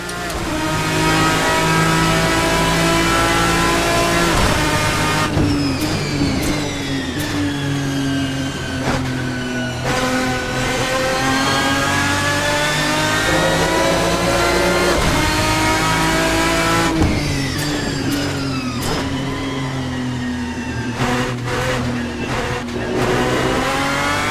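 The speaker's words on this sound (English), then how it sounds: "Let's take a quick listen to the Adonis's V12 engine" Adonis V12 race car engine in a sim racing game, revving loud and close with rising and falling pitch sweeps through several gear changes, a sustained howl that stays alone without talk.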